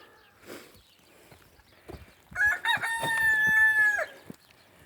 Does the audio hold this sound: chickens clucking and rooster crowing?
yes